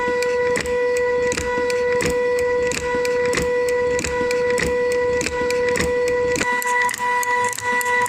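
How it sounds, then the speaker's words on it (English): An Arduino-controlled electric motor turns gears and cogs to drive a model windpump, giving a steady whirring hum broken by regular sharp ticks and clicks, loud and close, with a brief shift in tone near the end. "this is the motor mechanism down here with the gears and the cogs"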